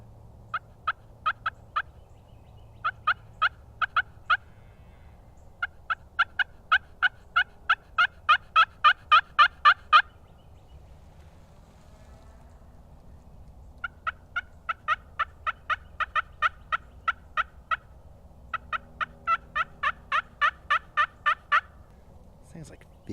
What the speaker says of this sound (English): I'm going to pull out my oldest call. This is a Primos slate call.